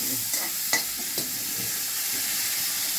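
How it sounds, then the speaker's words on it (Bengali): Bitter gourd slices sizzle steadily in a hot pan with salt for a Bengali shukto, a continuous close frying hiss broken by a few sharp clinks of stirring. "ভাজা হয়ে গেল উচ্ছেগুলো"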